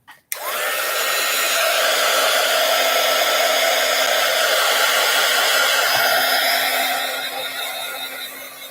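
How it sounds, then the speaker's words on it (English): A heat gun blows steadily and loudly close by, drying decorated wrapping paper, as a continuous whooshing roar that lasts several seconds after a quick click on, then eases slightly at the end. "I'm going to hit this with the heat gun real quick."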